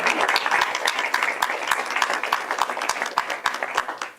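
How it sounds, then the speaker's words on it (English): A room full of people claps steadily, a dense, lively round of applause that starts to taper off at the end. "We can applaud that."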